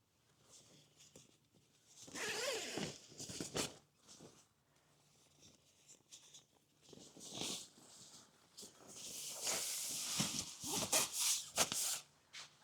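Zipper being worked on a pole hoop bivvy bag outdoors, with several rasping pulls and fabric rustling in uneven bursts, fairly close and moderate in level.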